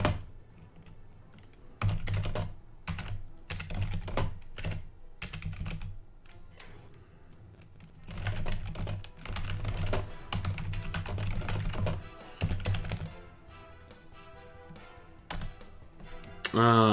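Fast keyboard typing during an online Dungeons and Dragons game, someone entering whispered chat messages; close, busy clacking in bursts separated by short pauses, with some quiet talk in the background.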